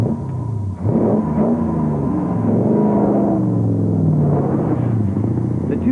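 A Daimler Dart SP250 with its Edward Turner-designed 2.5 V8, running close by with a deep, steady rumbling burble and a few rising revs over about six seconds, with no talk.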